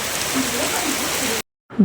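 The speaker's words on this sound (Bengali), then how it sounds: "বাইরে অনেক বৃষ্টি" Heavy rain falls outdoors on a university campus, a steady broadband hiss for over a second before cutting out abruptly.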